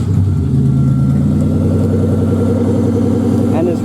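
The engine of a 1997 Buick Century demolition derby car runs steadily in gear on a trailer, a loud, rough, low idle thrumming close by with a slight lift near the end.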